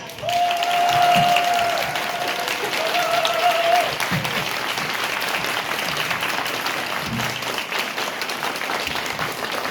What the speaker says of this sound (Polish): największe brawa dla Pani Małgosi